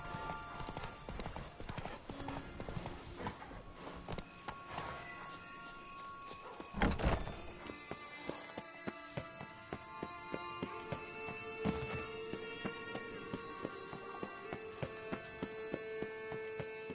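Horse hooves clip-clop steadily through The Witcher game world, a regular trotting rhythm running the whole time beneath layered music and ambient sound, with a brief louder burst partway through.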